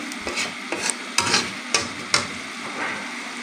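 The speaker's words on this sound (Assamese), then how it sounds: "দি লৈ গোটেইখিনি মিক্স কৰি এনেদৰে লৰাই থাকিম।" Spices such as red chilli powder and turmeric being stirred in a hot pan, a soft sizzle broken by several sharp scraping strokes of a spatula at an uneven rhythm, close by.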